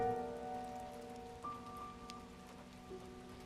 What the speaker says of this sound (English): Until one rainy evening, the road home was completely empty. The rain covered every sound, except one.